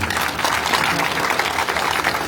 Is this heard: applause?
yes